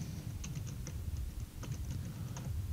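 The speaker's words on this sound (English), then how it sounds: "type in copy." Keys tapped on a computer keyboard during a software walkthrough, with quick clusters of light clicks over a low room hum, no voice present.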